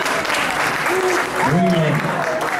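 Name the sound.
applause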